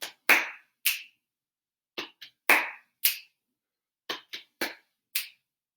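A class claps and pats a rhythm together, sharp hand claps and softer pats in short uneven groups with gaps between, fairly close and alone without talk.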